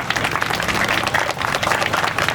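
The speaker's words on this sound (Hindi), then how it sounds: "तो एक बार अपनी मां के लिए जोरदार ताली हो जाए" A crowd at a memorial gathering claps loudly and continuously, a brief dense burst of applause from the assembled audience.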